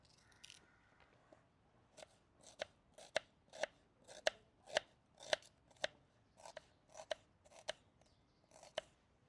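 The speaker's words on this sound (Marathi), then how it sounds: "आपण कांद्याचे पण लांब लांब काप करून घेणार आहोत" An onion is cut into long slices with a knife, giving about a dozen crisp, evenly spaced chops at a steady rhythm, fairly quiet and close, with no talk.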